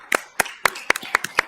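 Sparse, isolated claps from an audience at a League of Women Voters candidate forum in North Dakota, about seven sharp broadband hits spaced roughly a quarter second apart, close and fairly crisp, with no talk over them.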